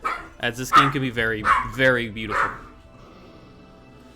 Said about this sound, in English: Do apologize for the dogs barking back